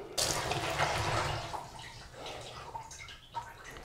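Water gurgling and trickling slowly down a pop-up bathroom sink drain, a soft, steady wash of sound that fades slightly toward the end, heard close up with no talking.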